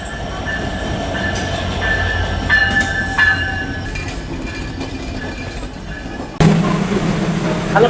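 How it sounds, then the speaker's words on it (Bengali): The Sundarban Express rolls in and halts at Alamdanga railway station in Bangladesh, a loud, close rumble of wheels on rails with screeching brakes, squeals and clanking cars, ending in a heavy low jolt as it stops. "এখানে মাত্র একটি সুন্দরবন এক্সপ্রেস ট্রেন এসে থামলো"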